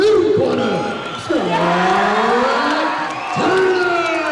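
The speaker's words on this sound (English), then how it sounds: "Please put your hands together for the fighter out of the blue corner" A crowd at an MMA event cheers for the winning fighter, with loud whoops and rising shouts that swell in waves over a noisy arena roar.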